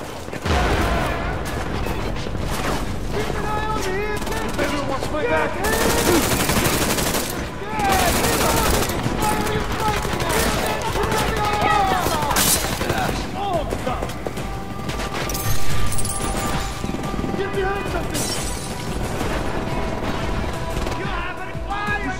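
Heavy gunfire in the Deus Ex: Mankind Divided video game, with dense bursts of automatic fire and crashing impacts that run almost continuously and loud, with voices in between.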